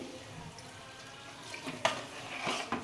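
Water trickles and splashes into a pot of mutton curry, a brief pour near the end with faint dripping and soft kitchen clatter before it.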